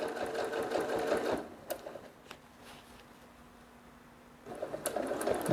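A sewing machine stitching a quilt with a ruler foot guided along a straight ruler runs in a fast, even whir, stops for a quiet pause with a few clicks, then starts stitching again.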